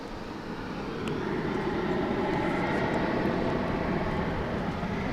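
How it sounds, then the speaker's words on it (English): An Antonov An-12BK cargo aircraft taxis toward the cargo area at an airport, its engines producing a steady, broad roar that swells slightly after the first second and then holds constant at moderate distance. "And there it goes over to the cargo area. Again, the Antonov An-12 BK."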